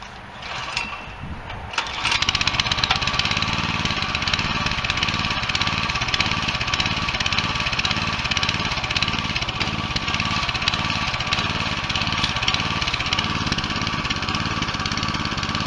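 Cold start of a Craftsman tiller engine: a short rattle as it catches, then the small engine runs steadily with a loud, even, buzzing drone up close until the end, no voices.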